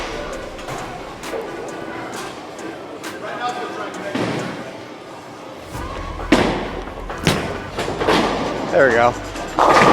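A solid bowling ball is thrown down the lane at a bowling alley, rolling with a low rumble before striking the pins in a burst of loud crashes and clatter; a person speaks briefly before the throw.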